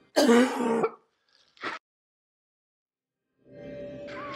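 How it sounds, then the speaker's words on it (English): A woman gives a sharp raspy throat-clearing cough, then a short second cough, followed by silence and then a faint hum. "she's coughing up"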